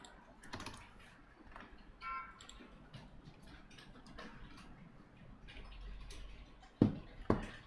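JavaScript code being typed on a computer keyboard: sparse, quiet key taps and clicks at an uneven pace, with two sharper knocks toward the end, no speech.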